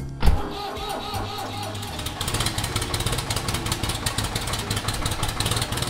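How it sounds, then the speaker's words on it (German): A tractor drives across a freshly ploughed field while planting potatoes, its engine a steady mid-pitched running drone after a brief bump at the start, holding near and even throughout. "Der Traktor fährt über das Feld und setzt die Kartoffeln in die frisch gepflügte Erde."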